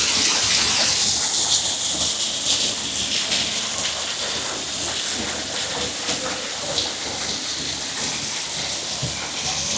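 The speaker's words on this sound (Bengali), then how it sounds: "এখানে দেখুন একটি ঝর্ণা করা আছে," Resort water fountain with a steady, close rush of splashing water, an even hiss that holds at the same level throughout with no pauses.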